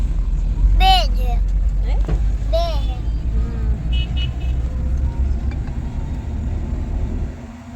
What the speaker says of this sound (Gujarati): જોરદાર ટ્રાફિક છે.